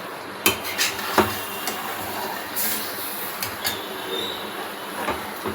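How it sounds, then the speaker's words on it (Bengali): Mutton being stirred and sautéed in an uncovered kadai, with metal spoon scrapes and clinks against the pan coming in uneven bursts over a steady low background, close and moderately loud, with no talking. "এখন ভালো করে কষাচ্ছি।"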